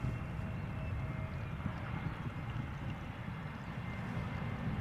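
An EasyJet jet that has just landed at Amsterdam Schiphol Airport after a flight from Geneva gives off a steady, distant, broadband engine rumble that holds level throughout.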